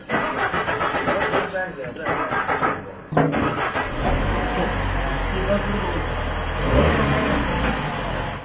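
A car engine modified to run on water instead of petrol cranks, starts and revs, producing a steady low rumble that swells and settles. Someone talks over it throughout.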